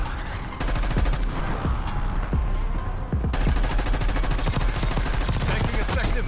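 Dense gunfire rattles through a Black Ops 6 Warzone match, rapid automatic bursts and overlapping shots close and loud, running continuously with a brief shift in intensity partway through.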